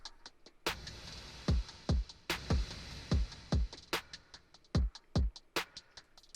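Drum loop with punchy kick and snare hits, the first two hits trailing into a reverb tail and the rest dry and clipped, sparse and rhythmic, heard alone.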